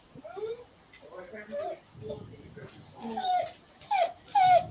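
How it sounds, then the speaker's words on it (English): A pet dog whimpers and yips in short bursts indoors, close by, mixed with people talking over it; the sounds come in several clusters, louder toward the end. "Oh, I hear a dog."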